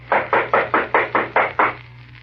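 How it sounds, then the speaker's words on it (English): Seven firm, evenly spaced knocks on a door, loud and close, rapping at a steady quick rhythm before falling silent, with no voices. "I'm going to knock on the door."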